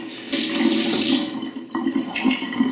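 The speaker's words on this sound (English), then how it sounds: "Let me just rinse my spoon." Tap water runs steadily as a spoon is rinsed under a kitchen faucet while sour cream coleslaw dressing is mixed, the flow briefly dipping before resuming, close and fairly loud with no talking.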